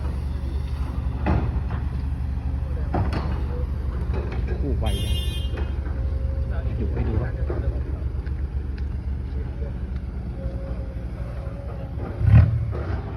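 A Komatsu PC excavator engine roars steadily with a deep, continuous drone, close and loud, with scattered clanks and a sharper burst near the end, and people talk over it.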